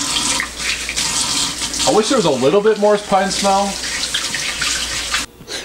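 Shower water runs steadily with a broad hissing spray, close and fairly loud, while someone talks over it before the flow cuts off abruptly near the end.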